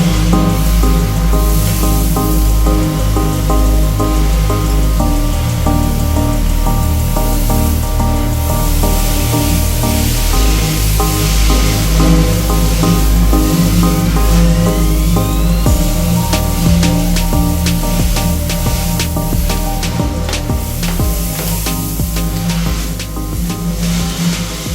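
A pressure washer sprays water from its wand with a steady, loud engine drone and a constant hissing jet. The pump pitch shifts slightly now and then, and no one speaks.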